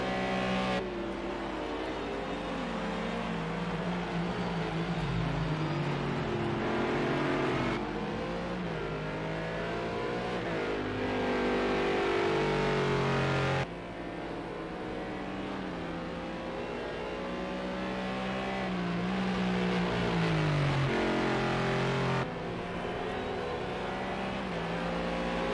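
Race car engines roaring continuously in a racing video game at Hockenheimring, loud sustained high revving with rising and falling pitch sweeps as cars accelerate and shift, no talk over it.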